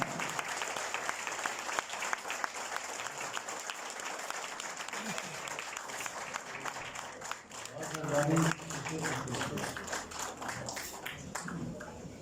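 An audience at a mushaira poetry gathering in Bhimbar applauds to welcome the presiding poet, with continuous clapping at moderate volume for several seconds while voices and a brief spoken moment mix in underneath.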